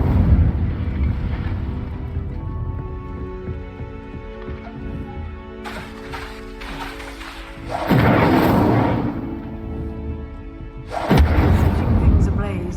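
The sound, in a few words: Incendio fire spell blasts from video game Hogwarts Legacy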